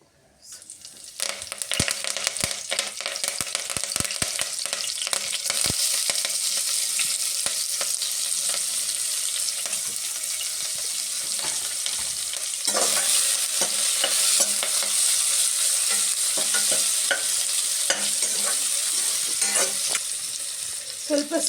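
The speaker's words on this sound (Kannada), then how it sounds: "ಸೊ ಇದು ಬ್ರೌನ್ ಕಲರ್ ಬರೋವರೆಗೂ ಫ್ರೈ ಮಾಡ್ಕೊಳ್ಳೋಣ." Cumin and mustard seeds fry in hot oil in a home kitchen pan, giving a steady, close crackling sizzle that runs for about twenty seconds, with sharp pops and clicks scattered through it and a brief stronger burst midway.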